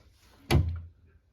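A washing machine access panel door is lifted and set down with one solid thunk and a short rattle, close by and without talk.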